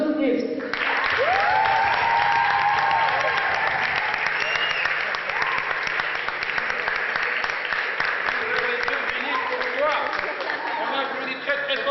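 An audience applauding at a cultural heritage event, loud sustained clapping from a full room with crowd murmur underneath, and a voice talking over it near the start.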